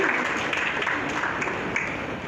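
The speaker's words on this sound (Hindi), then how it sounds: "आप अपने लिए भी ताली बजा सकते हैं और अपने पेरेंट्स के लिए भी ताली बजा सकते हैं" Audience clapping at a felicitation event for 10th and 12th class toppers in Bhopal, a steady, dense wash of hands filling the short stretch without pause, no voices over it.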